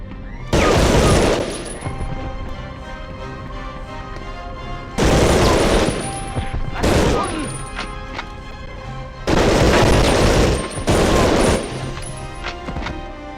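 In the Medal of Honor Underground video game, stick grenade explosions and bursts of gunfire come in about five loud, heavy clusters separated by quieter gaps.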